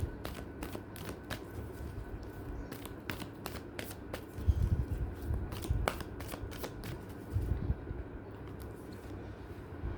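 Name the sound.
deity oracle cards being shuffled and drawn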